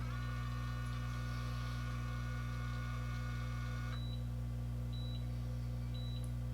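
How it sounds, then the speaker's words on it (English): A series of short electronic beeps from an automatic hair curler sounds, a long tone then three quick double beeps spaced about a second apart, over a steady low hum. "Sometimes I just count to 6 and pull it before the beep beep beeps"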